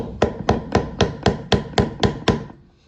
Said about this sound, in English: Take a flathead screwdriver and put on the lip. Take the hammer